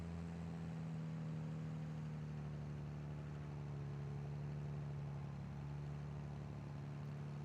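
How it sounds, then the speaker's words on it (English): Tractor engine pulling a planter, a steady low droning hum running continuously and evenly, muffled and fairly faint, with no other sounds over it. "This tractor ain't got enough horsepower."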